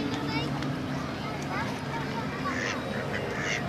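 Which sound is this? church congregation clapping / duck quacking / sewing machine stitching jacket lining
duck quacking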